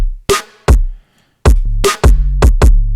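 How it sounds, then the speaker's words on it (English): A sparse drum pattern of punchy kick thumps and sharp snare cracks from samples, some hits ringing with a deep sustained low tone, loud and close. "So snare sounds like this"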